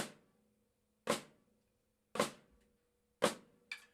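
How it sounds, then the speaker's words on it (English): Four crisp snare drum hits, each a flam, come at a slow, even pace. They are clear and isolated with silence between. "Flams sound like this."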